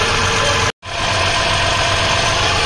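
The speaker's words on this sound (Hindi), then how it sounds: "टेस्टिंग चालू इंजन की" A repaired ship engine runs during testing after a fault and gear oil leak were fixed, a loud, steady close-up drone with a brief cutoff near the start before it resumes.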